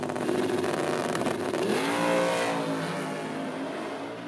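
A car engine bouncing off a launch control rev limiter: rapid, stuttering engine pops and a held high-rev tone, steady and loud, with no speech.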